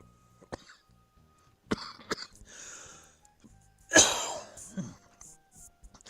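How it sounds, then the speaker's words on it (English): A person still getting over a cold gives a burst of harsh coughs, with a few throat-clearing sounds and quiet talk around it in an otherwise quiet room. "I have a bad habit of coughing like that well past when I get over a cold."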